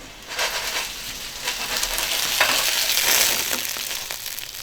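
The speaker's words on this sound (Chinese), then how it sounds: "给它晃动一下，让它把其他面也煎哈。" Dumplings pan-fry in a pan with a busy, crackling sizzle that swells a little louder midway, with faint scraping as the pan is shaken and no talk.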